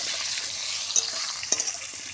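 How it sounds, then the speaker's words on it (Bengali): Potatoes fry with turmeric in a pan, giving a steady close sizzle with a few faint stirring clinks and no voices. "একটুখানি হলুদ দিয়ে আলুটা ভাজবো,"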